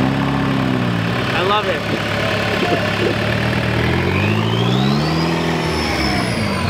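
Turbocharged Volkswagen engine revving at an outdoor VW car show, a steady mid-pitched engine drone rising and falling under close, excited talk from people nearby.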